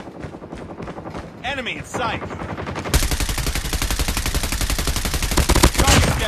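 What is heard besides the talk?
machine gun fire in a video game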